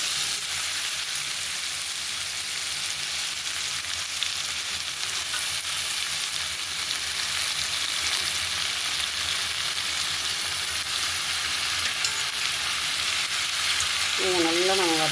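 Quail sautés with curry leaves in a pan, a continuous close-up sizzle and crackle with faint stirring, steady throughout with a brief higher tonal sound right at the end.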